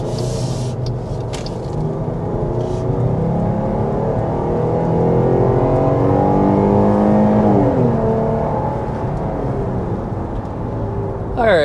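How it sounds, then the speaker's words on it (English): A 2025 Jeep Grand Cherokee L engine revs up hard and steadily climbs in pitch through the gears to about 55 mph, a continuous loud interior roar with some faint talk. "we want to go ahead and start by giving you a hard acceleration."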